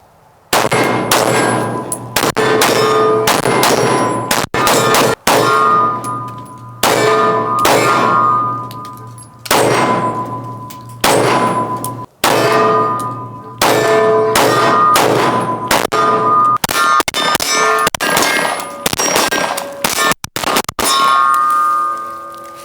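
Pistol fitted with a Burris FastFire red dot firing at steel targets outdoors, with loud sharp shots in irregular strings, each followed by a ringing metallic clang of the plates and brief pauses between volleys.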